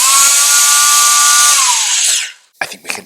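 Brushless-converted WLTOYS 124019 RC car on a 3S battery, its motor giving a loud, close, high-pitched whine that holds steady and then winds down, followed by a few short bumps and clatters.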